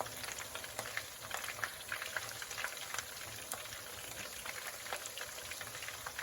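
Battered fish for Baja fish tacos frying in hot oil, a steady dense crackle and sizzle that continues evenly at close range with no voices.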